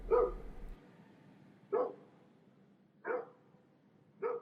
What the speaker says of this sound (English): I heard the barking as she dashed away